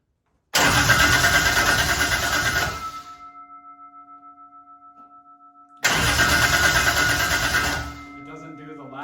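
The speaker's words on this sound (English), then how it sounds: "I'm gonna test the starter first." A Toyota Celica fitted with a 2JZ engine has its starter motor crank twice, each burst loud, close and steady for about two seconds, with a faint electrical whine in the gap between them and no start.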